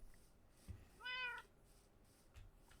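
A single short meow from a pet cat in Minecraft, clear and fairly close, set against quiet game ambience with faint thumps before and after.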